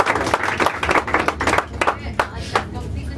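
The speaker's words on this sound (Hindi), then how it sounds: "सो तालियां बजाओ सबको" An audience applauds at a poetry performance, a dense run of clapping that thins out toward the end, close and fairly loud, with a voice over part of it.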